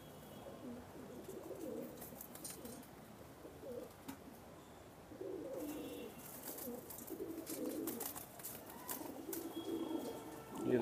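Soft, low coos from dark Dubwale pigeons repeat in murmuring bursts over a steady background hum, with no talking.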